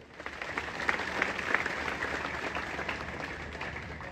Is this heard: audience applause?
yes